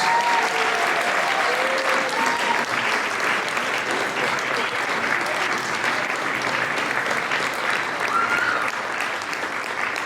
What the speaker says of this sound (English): give them a very, very nice round of applause for all they've done for Knox